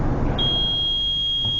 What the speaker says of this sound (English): an LED glows over here and buzzer gives a sound